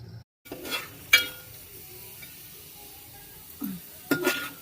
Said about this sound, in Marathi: चला, आता डाळीला फोडणी घातलेली